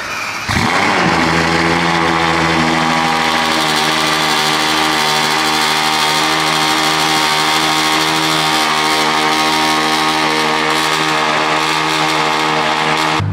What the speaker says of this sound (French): il va démarrer la 812 GTS Stallone